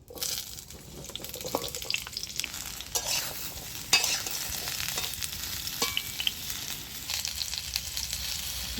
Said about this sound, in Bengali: এবার আলুটা আমি দিয়ে ভেজে নিচ্ছি